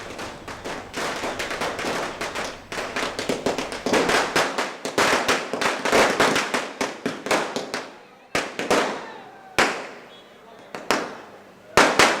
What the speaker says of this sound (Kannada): ಥಿಯೇಟರ್ ಹೊರಭಾಗದಲ್ಲೂ ಸಾವಿರಾರು ಸಂಖ್ಯೆಯಲ್ಲಿ ಸೇರಿದ ಅಭಿಮಾನಿಗಳು ಪಟಾಕಿ ಸಿಡಿಸಿ